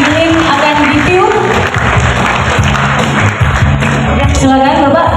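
Loud, sustained audience applause fills a formal evening civic ceremony in Bitung, North Sulawesi, steady clapping from a large crowd with a few voices mixed in throughout.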